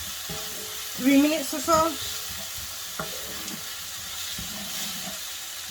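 Capsicum and Scotch bonnet peppers frying in a pan, a continuous close sizzle broken by a few scraping stirs, with a brief spoken phrase over it.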